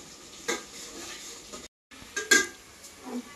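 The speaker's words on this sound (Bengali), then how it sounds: "পেঁয়াজটাকে ভালোভাবে লাল লাল করে ভাজবো।" Onions frying in a pan for chicken biryani, a soft sizzle broken by spoon scrapes and stirring clatter, with a brief silent gap midway and no talking.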